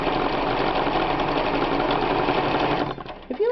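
A Bernina 1130 sewing machine stitches fabric in a fast, steady mechanical whir that runs loud and close for about three seconds, then stops abruptly, leaving a few faint clicks.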